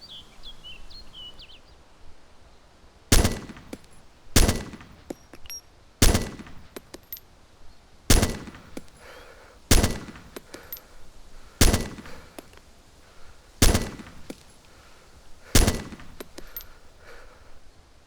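Gunfire in the DayZ video game, single loud sharp shots spaced a second or two apart, about nine in all, each with a short ringing tail over quiet outdoor ambience and faint birdsong.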